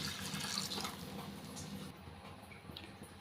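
Water poured into tamarind paste to thin it for an eggplant and egg curry, a close, wet pour that trickles and sloshes, then eases into softer dribbling.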